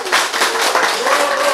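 An audience claps briefly at a lecture on cancer treatment, a short burst of dense, fairly close applause with a voice faintly mixed in.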